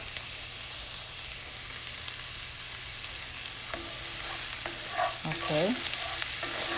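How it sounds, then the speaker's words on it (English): Garlic and scallion sizzle steadily in a hot pan, a constant close frying hiss throughout, with a voice speaking briefly over it near the end. "And I will just put this garlic in here. And I'll saute that for a bit."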